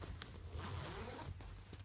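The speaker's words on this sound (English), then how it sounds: "So this is a reversible zip, so it flips in and out." Zip-in reversible liner of a Barbour Bedale jacket being zipped, a close, continuous zipper rasp with a few quick bursts, no talking.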